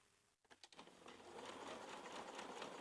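A domestic sewing machine runs a steady stitching seam through the fabric of a dungarees side pocket toward a corner, starting with a few short bursts and then settling into a continuous close whir.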